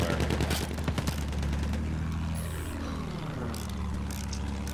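Gunfire and an anti-aircraft rocket sound out in a combat video game featuring an armored train, rapid loud bursts followed by a sweeping whoosh and aircraft drone.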